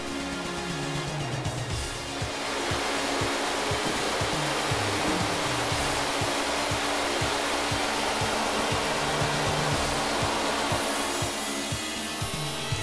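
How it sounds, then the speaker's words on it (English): A Hundegger K2i joinery saw machine cutting jack rafters in timber, a loud continuous roaring hiss of the blade and extraction with low rhythmic mechanical thumps underneath, steady throughout. "Jack rafter cuts for any roof pitch and any angle are calculated by the machine and cut with precision."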